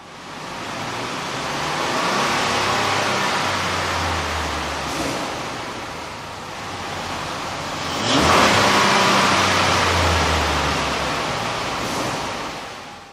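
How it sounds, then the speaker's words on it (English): A Dodge Nitro's 4.0-liter engine with a K&N air intake runs on a dyno, a steady loud roar that swells, eases, then climbs again into a second strong surge before tapering, with no talking. "With the air intake installed, we ran the vehicle on the dyno to test the sound comparison versus the stock intake"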